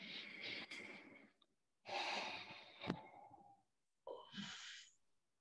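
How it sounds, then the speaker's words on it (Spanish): Slow, deep breaths during a guided relaxation exercise at an emotional-freedom seminar: three close, soft breath sounds, each a drawn-out inhale or exhale separated by short silent pauses. "Hacemos una respiración profunda."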